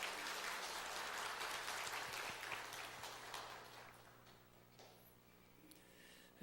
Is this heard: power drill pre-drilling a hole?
no